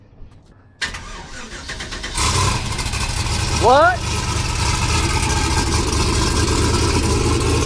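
A car engine fitted with a homemade muffler starts up and settles into a steady running drone after a couple of sharp onsets, close and loud, while someone speaks briefly over it.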